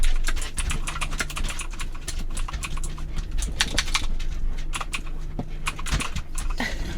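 A clicky mechanical computer keyboard is typed on rapidly and continuously at close range, making dense, uneven clatters of sharp keystrokes with no talk.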